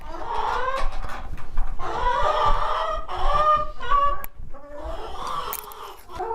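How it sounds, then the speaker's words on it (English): A backyard flock of about twenty chickens clucks and murmurs close by in overlapping bursts, busy and continuous. "let me show you where the chickens live. We've got about 20 right now."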